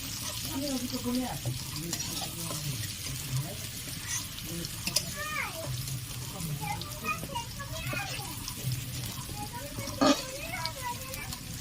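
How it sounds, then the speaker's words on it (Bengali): Potatoes frying in oil in a pan for a Bengali shukto, a steady close sizzle with scraping and stirring throughout, while a voice murmurs faintly underneath. "আলুগুলো বেশ লাল লাল করে ভাজা হয়ে গেছে"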